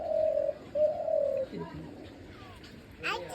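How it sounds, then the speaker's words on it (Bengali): A dove gives a few low, steady coos nearby, followed by faint bird chirps in a quiet home setting. "ঘুঘু এসছে, আমাদের ঘুঘু এসছে"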